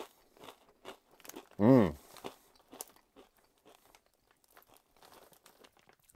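Doritos jalapeno cheddar chips crunched close to the mouth, a cluster of crisp bites and chewing with one loud hum of approval mid-way, then quieter chewing crackles.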